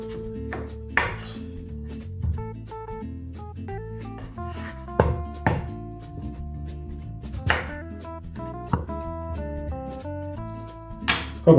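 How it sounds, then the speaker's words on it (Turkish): Zucchini sliced on a cutting board for a Turkish candied pumpkin-style dessert, sharp knife chops in an uneven rhythm, close and crisp, over soft background music. "Kabakların doğranma işlemi tamam."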